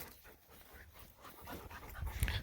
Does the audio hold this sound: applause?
no